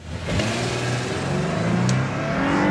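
A 2006 Lexus GS 300 pulls away hard from a standstill, its engine note loud and close as it climbs steadily through the revs with no talking.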